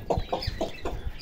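A hen clucks several times in a quick, even series, close by, short throaty notes repeating about every quarter second.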